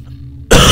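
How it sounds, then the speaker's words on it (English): A person gives a single sudden, loud, harsh cough that breaks in after near-silence and fills the rest of the brief moment. "I got a bit of a cough."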